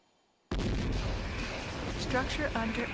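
A laser satellite strike in the video game Warzone 2100 cuts in abruptly after a brief silence as a loud, sustained roaring blast, with an automated voice speaking over it toward the end.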